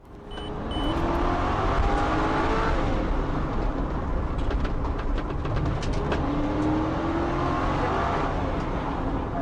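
A stolen car speeding away during a police chase: a loud, sustained engine roar with rising revs and road noise, passing close and steady throughout, with a few sharp high chirps near the start.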